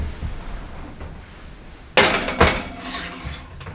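Bacon-cashew-pecan brittle mixture scraped and turned out of a pan onto a foil-lined cookie sheet, giving a couple of close, loud metallic clanks and scrapes after a quiet start.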